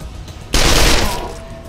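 Gunfire in Wasteland 2, a sudden loud burst of rapid shots lasting about half a second, then fading into a ringing tail over a low background.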